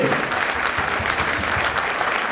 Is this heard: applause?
yes